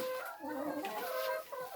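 Backyard hens cluck and murmur softly in quick, overlapping chatter, faint and close, with a few rising drawn-out notes.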